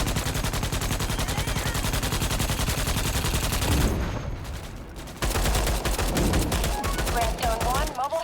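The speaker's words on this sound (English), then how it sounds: "Bug artillery." In a video game battle against bugs, bug artillery pounds away in a dense, loud, continuous barrage of rapid booming shots. The fire briefly thins midway, then resumes at full force.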